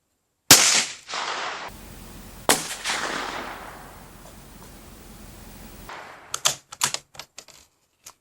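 A rifle is fired on a range at a 50-yard target. Two sharp, fairly quiet reports ring out with long fading tails, followed by a flurry of small clicks and rattles near the end.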